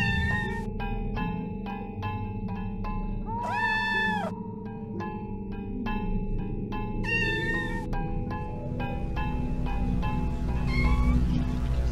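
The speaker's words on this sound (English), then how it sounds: "we find the judge, meowing out desperately" A cat-like character called the Judge in the game OFF meows desperately, several drawn-out pleading meows standing out over steady ambient game music and repeated tonal blips.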